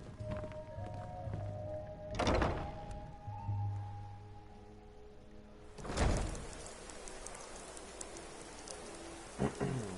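Rain falls steadily in the video game Skyrim under low rumbling thuds, with two heavier booming impacts, like distant thunder, and a faint tonal hum in the background.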